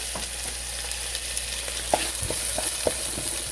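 Chopped onions sauté in coconut oil with a steady, close sizzle, broken by a few scattered stirring scrapes and taps.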